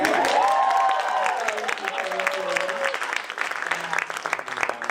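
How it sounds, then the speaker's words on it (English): Audience applause at a faculty recital, steady clapping from a crowd with a sustained sung or played tone briefly over the start. "That's where you clap."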